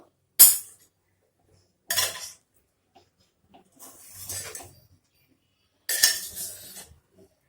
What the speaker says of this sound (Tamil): கொரியண்டர் கொஞ்சம் போட்டுட்டு மிக்ஸ் பண்ணிக்கலாம்